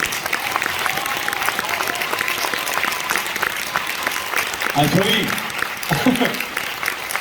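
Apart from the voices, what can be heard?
applause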